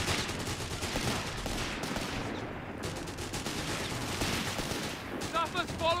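Dense, continuous gunfire in the World War II strategy game Company of Heroes 3: rattling machine-gun bursts and overlapping rifle shots form a loud, unbroken battle din with no pauses.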